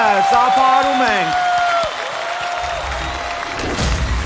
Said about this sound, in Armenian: Այս փուլում միավորը վաստակում է Զիրոյանը, ծափահարում ենք։